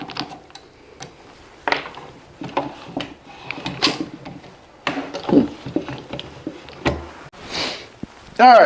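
Bauer 10 inch drill press being adjusted and cranked down, a series of scattered mechanical clicks, ratcheting ticks and metal knocks at close range, irregular and separated by brief pauses.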